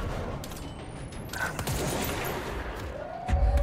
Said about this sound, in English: Wow, they're shooting at me.